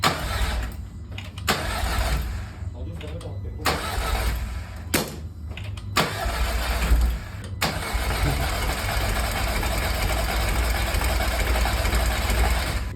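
A Seat Cupra 2.0 TFSI engine, freshly fitted with a new turbo, cranks in several bursts of starter whirring and then catches into a steady loud idle, close by.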